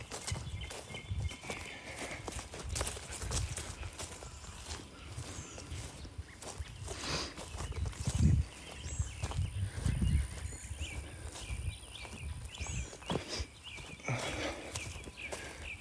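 Ranch horses walk with a steady, irregular clip-clop of hooves close by, mixed with shuffling, scattered thuds and faint birdsong, with no talk.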